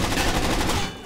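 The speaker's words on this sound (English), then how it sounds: "I just started randomly shooting" Gunfire in Rainbow Six Vegas 2, a close, loud burst of rapid shots filling the whole moment in a co-op convention centre firefight, cutting off abruptly near the end.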